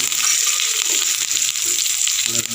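Mustard seeds and garlic sizzle steadily in hot oil, a loud, dense crackling hiss that runs through without pause.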